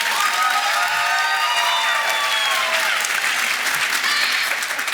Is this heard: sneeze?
no